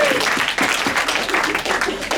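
Wedding guests clap during a reception speech, a brief burst of applause from the room with a voice talking over it.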